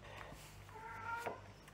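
A house cat meows indoors during a French scrapbooking album tutorial, a drawn-out, fairly quiet cry rising and wavering near the end, with no talking over it.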